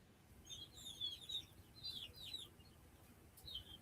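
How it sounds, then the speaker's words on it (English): Several small birds chirp and tweet in short, high bursts, fairly faint and a little distant, over a soft outdoor background hum. "all of a sudden I could hear the birds."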